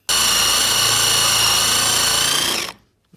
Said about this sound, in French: je vais faire un trou, par exemple, ici. Je commence par un trou pour placer la rondelle.